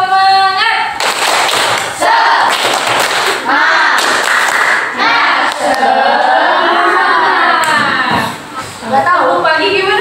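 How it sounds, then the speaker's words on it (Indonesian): A school class claps a rhythmic spirit clap together, bursts of hand claps mixed with loud children's voices chanting in a classroom. "Kita tepuk semangat dulu ya, biar semangat."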